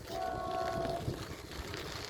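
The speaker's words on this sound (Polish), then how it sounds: "słychać pociąg" A train passes in the distance near a river ferry crossing, a faint steady rumble with a short tonal whine from the train early on, heard outdoors without talk.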